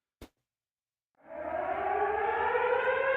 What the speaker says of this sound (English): When you hear the siren, it means that the cage is coming down.